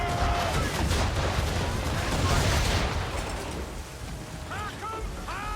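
Cannons fire in rapid volleys during a naval battle in Assassin's Creed III, a rumbling barrage that fades, followed by faint shouted voices and whistles.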